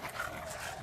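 A newly arrived dog on a farm gives a brief, close whine-like vocalisation with some panting, heard on its own.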